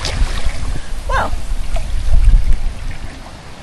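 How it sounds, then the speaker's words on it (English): A swimmer on a rope swing drops into the river at Denham Bridge in Devon, a brief splash and slosh of water amid steady outdoor rumble and trickling, with no voices over it. "I caused a big splash."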